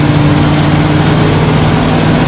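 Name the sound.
1979 Dodge 100 truck engine at full throttle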